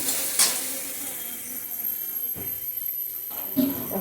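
Onions sizzle quietly in a pan while being stirred for egg-soya chowmein, with a few sharp spatula scrapes over a soft frying hiss.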